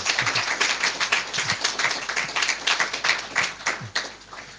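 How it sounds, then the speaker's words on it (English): Audience clapping after a conference presentation on integrating Janus into Periscope and Twitter, a modest scattered round of hand claps at steady volume lasting several seconds. "Let's give a warm round of applause for Liubo,"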